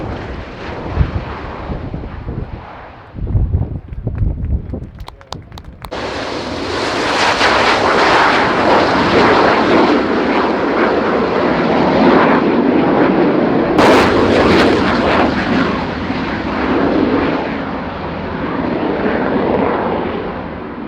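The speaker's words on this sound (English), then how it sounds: "Final pass before departure for the Osprey." A Bell-Boeing Osprey tiltrotor makes its final flypast at an air show, with a broad, sustained engine and rotor roar that swells and holds, rough wind buffeting on the microphone and a few sharp bangs early on.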